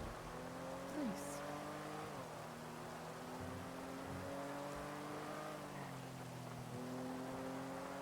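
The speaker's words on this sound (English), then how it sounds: "Got a speeding bank truck." Speeding bank security truck engine in the NoPixel video game, a steady loud drone with shifting pitch as it accelerates and downshifts, with brief tire squeal and faint background noise, no talk.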